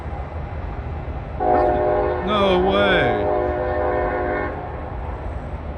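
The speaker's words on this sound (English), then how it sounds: "there's a train going by over there" A passing train sounds its horn in Sharonville, Ohio: one long, sustained blast lasting about three seconds, heard from a distance over low rumbling background noise, while a person briefly speaks during it.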